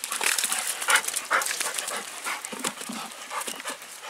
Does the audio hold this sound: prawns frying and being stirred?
no